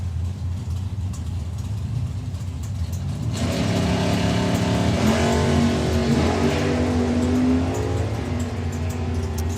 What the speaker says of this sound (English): It'll be John Bean with the Shotgun Mustang going to be chasing him down.